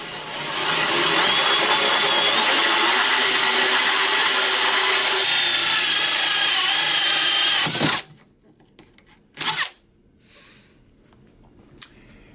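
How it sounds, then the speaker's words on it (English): A hole saw on a power drill grinds steadily through wood for about eight seconds, loud and close, then stops abruptly, followed by a couple of short knocks and scrapes. "with a hole saw like this, you want to go slow and generally kind of come in at an angle"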